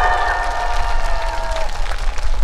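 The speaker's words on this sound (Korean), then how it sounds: "박수 한번 주세요. 박수!" An audience at the opening ceremony of a Gangwon provincial sports festival claps and cheers for a live concert act, with loose crowd applause and a held musical tone in the background.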